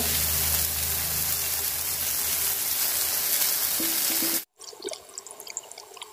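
Eggplant slices frying in oil give a steady, loud, dense sizzle for about four seconds before cutting out abruptly, followed by quieter scattered crackles and faint clatter.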